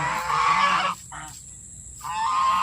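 Geese honk loudly in a noisy flock, with a brief lull in the middle before the honking swells again.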